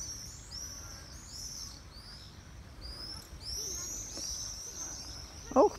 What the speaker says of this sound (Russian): Ох, птицы как поют.